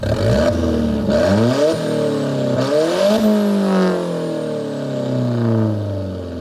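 Alfa Romeo 4C Spider engine, mounted just behind the cabin, revved loudly up close several times in a row, each rise followed by a falling pitch, then a long smooth drop back toward idle.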